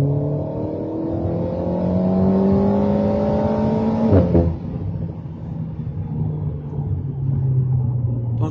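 An Alpine A sports car's engine in sport mode revs upward steadily, pitch climbing, then drops briefly at a gear change before pulling hard again, loud and close from inside.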